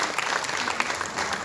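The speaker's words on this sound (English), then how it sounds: "So clap for him." A crowd claps for someone at a National Youth Day celebration, brief dense applause from a nearby audience, loud and steady with no pause.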